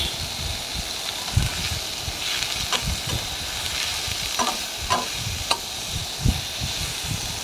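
Pumpkin peel and potato frying in a pan, stirred with repeated scrapes and soft clacks over a constant dense sizzle, close and alone.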